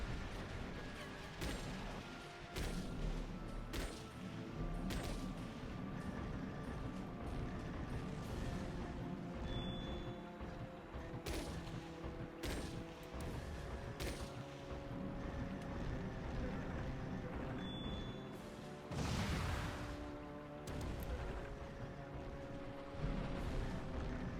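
Incoming gunfire in the mech combat video game Chromehounds: a dense, continuous barrage of rumbling impacts and sharp bursts, loud and close, sustained for the whole stretch with no pauses.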